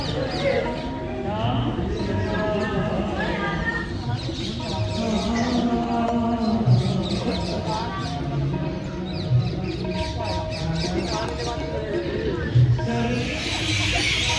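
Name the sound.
birds calling at a Gurudwara in Patiala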